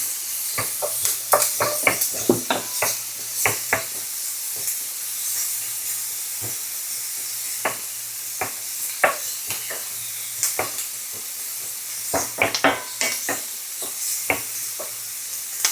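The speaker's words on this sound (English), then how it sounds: "the oil is ready and the pan is hot enough, add onion." Chopped onion sizzles in hot oil in a pan over high heat, a continuous frying hiss broken by sharp clanks and scrapes of stirring, close and fairly loud with no talking.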